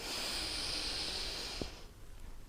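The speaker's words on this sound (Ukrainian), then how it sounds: "Вдих. І видих." A long, loud hissing breath out during gentle morning exercises, close to the microphone, ending with a short snort-like catch before quieter air follows.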